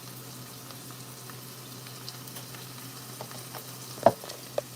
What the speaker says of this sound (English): I'm pouring them over everything so that they can kind of fry up too